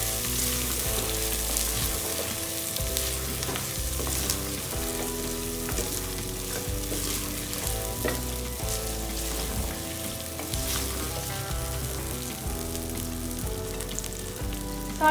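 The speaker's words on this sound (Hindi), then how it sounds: "गोश्त को मैंने इसके साथ मसालों के साथ अच्छे से फ्राई कर लिया है।" Beef fries with dry spices in a karahi, a loud, continuous sizzle under steady background music with a clear beat.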